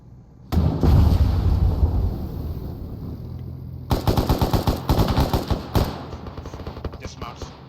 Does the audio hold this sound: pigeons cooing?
no